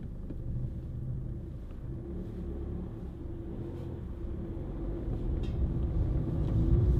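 Ford Fiesta 1.4 TDCi three-door diesel panel van on the move, a low, steady engine drone and road rumble from inside the cab that gradually grows louder toward the end.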